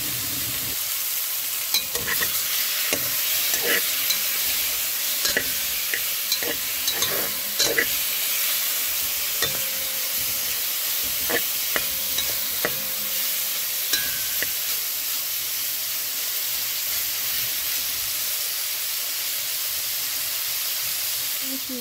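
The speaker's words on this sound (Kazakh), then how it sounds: "Қызып тұрған қазанымызға құйрықты саламыз" Sheep tail fat sizzles and crackles steadily in a hot cauldron, with scattered pops and stirring scrapes, close and fairly quiet.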